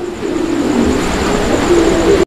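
Low, soft cooing of pigeons for sale murmurs steadily over a constant background hum, ending with a short abrupt cut.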